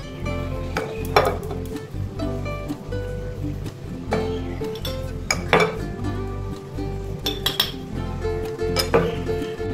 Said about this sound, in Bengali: এবার আমি এটা শিশিতে ঢুকিয়ে নেব, তুলে নিচ্ছি শিশিতে।